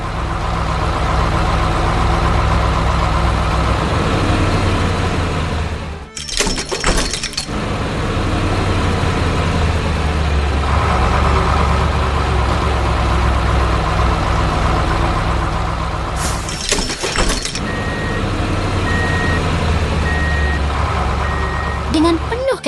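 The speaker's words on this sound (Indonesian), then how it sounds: "Truk derek merah datang dengan gagah untuk memberikan bantuan." A heavy tow truck engine in a 3D animation rumbles steadily close by, with reversing beeps and two brief clattering bursts; a voice talks over it.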